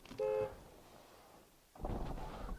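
A single loud car horn toot from a Mercedes-AMG SL, short and steady, then quiet before engine and road rumble rise near the end.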